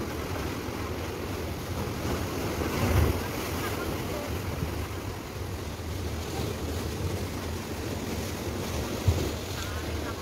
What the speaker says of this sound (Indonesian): Benturan ombak yang begitu besar.